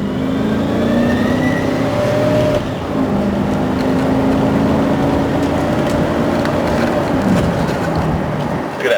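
A gray 2004 Chevy G3500 cargo van accelerates from inside the cabin, a steady loud engine drone climbing in pitch as it builds speed over road rumble, with no talk.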